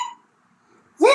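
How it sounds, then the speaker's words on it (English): A cartoon hiccup from Peppa Pig, a single sharp, squeaky vocal hic near the end of a brief quiet stretch, coming just after a fading tone. "This idea is not making George hiccups disappear."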